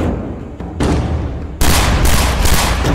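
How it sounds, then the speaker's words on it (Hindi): Dense, loud bursts of rapid gunfire crackle continuously in a street shooting in Mumbai, intensifying sharply midway into a heavy, sustained barrage with booming low rumble. "तभी ताबड़तोड़ गोलियां चलने लगती हैं।"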